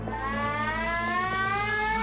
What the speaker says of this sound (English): you might want to cover your ears at this point because you guys are new to the air raid siren.